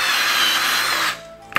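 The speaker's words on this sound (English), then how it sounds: "drill these out" A power drill whines steadily at high speed while boring holes in a plastic bucket for a homemade chicken plucker, then winds down and stops with a small clunk at the end.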